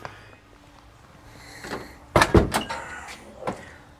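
A door being opened and closed in a workshop where a 1950 Cadillac hearse is under construction, with soft creaks building to a cluster of loud close bangs and rattles, then one more knock, and no talk.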